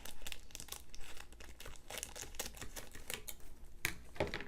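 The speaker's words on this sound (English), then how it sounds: "And now I'm going to take my scissors" Scissors cut through paper while a double slider card is made from digital paper and images. The snips come as a quick run of close, crisp crunches and crinkles, about four seconds long, with no voice over them.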